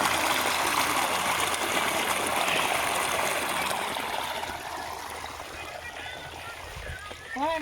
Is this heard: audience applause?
no